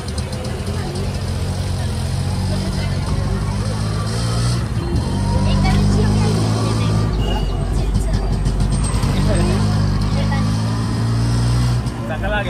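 An auto-rickshaw carrying several passengers drives along a road on the way to a palkhi procession for Shri Ratneshwari Devi, its engine a steady close drone with traffic noise and people talking throughout.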